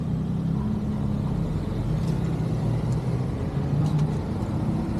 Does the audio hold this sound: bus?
yes